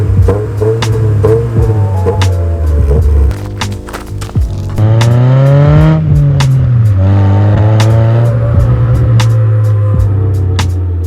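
A Honda Fit with a Mishimoto shift knob driving, engine drone rising and falling through gear changes, close and loud with steady road hum.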